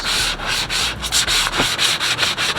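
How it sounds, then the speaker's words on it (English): Rhythmic back-and-forth sanding rasps across a KBD SRT front bumper for a Dodge Charger, a close, loud scratchy rubbing with even strokes repeating several times a second. "this is gonna take me a little while to sand"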